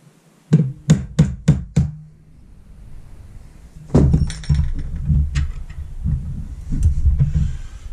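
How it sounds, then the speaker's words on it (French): A nail is hammered as a center punch into a 3 mm metal bar: five quick sharp taps in a row, then after a pause a louder strike followed by clattering, scraping handling noise. "utiliser un clou pour faire un pointeau et pour pouvoir percer après ma barre"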